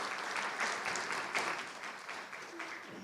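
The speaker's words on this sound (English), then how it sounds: "And let's have another little round of applause for Fowzia" Faint, brief round of applause from an audience at a stand-up event, soft scattered clapping with no voices.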